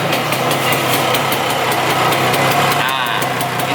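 An old Vespa scooter engine idling cold, a loud, steady close-up putter with a rough rhythmic knock and no talk over it.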